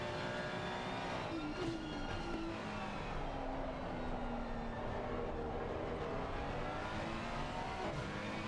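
Ferrari race cars battling around the Brands Hatch circuit, engines droning and shifting pitch at a distance, a continuous layered whine with no talk.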